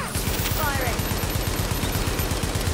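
A turret machine gun in the shooter The Division rattles out steady, rapid bursts with an even mechanical rhythm, close and continuous throughout, with a faint voice briefly underneath.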